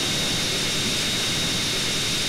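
A plane's engine in GTA San Andreas, a video game, drones as a steady, loud, broadband roar with a thin high whine riding on top, filling the whole stretch without a break.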